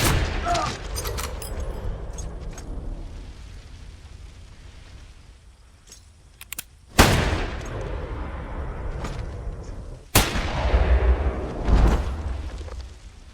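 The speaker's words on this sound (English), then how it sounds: "After the gunfire, John and Madeline pointed weapons" Two sharp, loud gunshot-like bangs ring out several seconds apart over a rumbling, noisy background with muffled voices early on.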